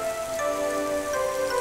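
Steady rain falls in rainy weather in an animated children's story, a continuous dense patter with soft musical tones ringing over it, even in level throughout and without speech.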